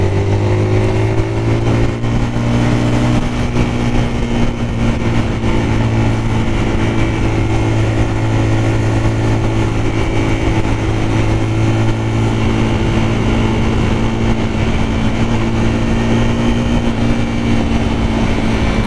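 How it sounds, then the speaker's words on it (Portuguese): Zontes R 350 motorcycle engine pulling steadily during a test ride at a launch event, a loud continuous drone with sustained harmonic tones and little change in pitch, no talk over it. "Essa moto aqui acelera, faz curva."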